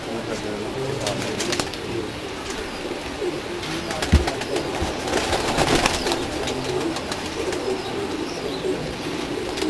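Several pigeons of a prized Hajj Sahib breed from Lahore, Pakistan coo in soft, repeated low throbs over a steady loft background, with occasional chirps and brief wing movement.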